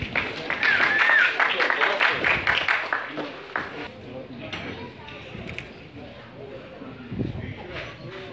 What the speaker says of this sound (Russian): Бурные аплодисменты Александру.